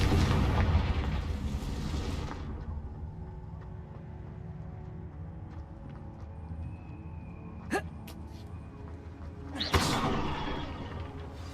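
A Confringo explosive spell in Hogwarts Legacy erupts in a loud opening blast that rumbles for about two seconds. Quieter ambience follows, broken later by a couple of sharp bursts.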